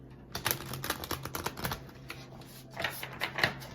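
Tarot cards are shuffled by hand in a fast run of crisp, clustered riffling clicks, close up and fairly quiet, pausing briefly midway before picking up again.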